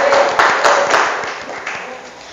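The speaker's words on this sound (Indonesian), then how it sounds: "Tepuk tangan." Hand clapping from a vocational school class, a burst of rhythmic claps that gradually fade, close and fairly loud in a classroom.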